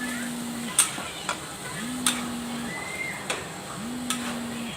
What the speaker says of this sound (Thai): ผัดพริกกับกระเทียมให้หอมเลยจ้า